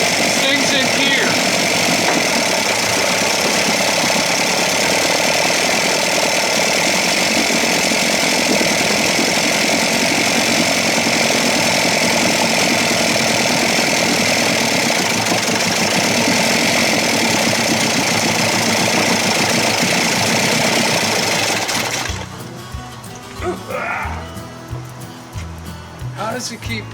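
A 1956 Evinrude 7.5 hp outboard motor runs with its exhaust blowing out, giving a loud, steady, rough drone for about 22 seconds before it cuts off and leaves quieter scattered clatter.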